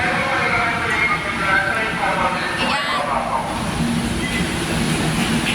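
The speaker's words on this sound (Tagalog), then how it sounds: "Tamang-tama, may MRT na." An MRT train rumbles and hisses steadily arriving at a station, with a broad mechanical drone and faint voices in the background.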